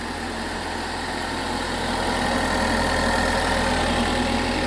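A restored Ford Focus ST idles steadily with a constant low engine rumble and vibration, close and loud, the hum rising slightly partway through with no talking.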